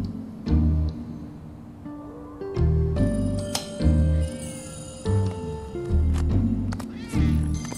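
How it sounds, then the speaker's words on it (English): Many cats meow and yowl repeatedly in the Final Fantasy 7 Remake video game, overlapping calls of varied pitch over a low background hum, with soft chimes now and then. "There are so many cats."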